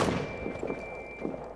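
Dull thuds from a hand grenade thrown in a video game, a few muffled impacts spread across a short stretch with faint background noise.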